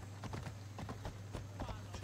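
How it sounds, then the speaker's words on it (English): A horse gallops in the video game Assassin's Creed Odyssey, its hooves beating a quick, regular rhythm of close, clear clip-clop strikes over steady background game sound. "I'm just riding my flaming horse."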